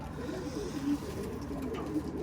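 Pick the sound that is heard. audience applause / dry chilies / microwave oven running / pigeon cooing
pigeon cooing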